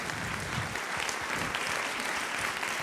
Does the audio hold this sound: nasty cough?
no